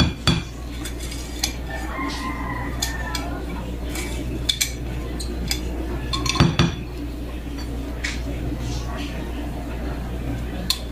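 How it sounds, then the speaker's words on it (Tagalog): Rice flour paste being stirred into a puto batter mixture in a bowl, with scattered close clinks and scrapes of a utensil against the container over a low steady hum, and a voice speaking in between. "Haluin lang natin mabuti hanggang sa makita nating smooth na yung ating mixture"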